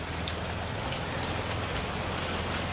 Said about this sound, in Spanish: Familia Spengler, está lloviendo pero está como cayendo granizo